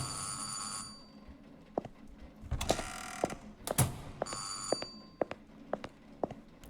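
In the horror game Burnhouse Lane, an old telephone bell rings in bright rattling bursts amid clicking, ratcheting mechanical sounds, fairly faint with no talking.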